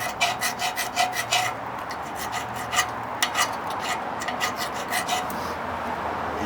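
Rust being scraped off metal outdoors, a steady close rasping scrape with rhythmic strokes, loud and continuous with no talking.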